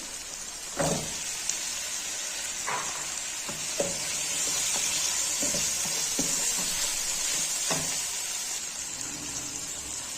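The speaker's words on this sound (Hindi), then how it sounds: "आलू को ज़रा हम 2-3 मिनट तक फ्राई कर लेंगे" Potatoes fry in oil with spices, coriander and green chillies in the pan, giving a steady close sizzle broken by several sharp scrapes and taps of a stirring spoon.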